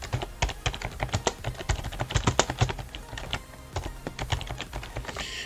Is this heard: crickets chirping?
no